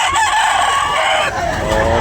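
Rooster crowing loudly at a busy chicken market in Tabunok, Talisay, one long sustained crow in the foreground over a dense din of other fowl and clucking.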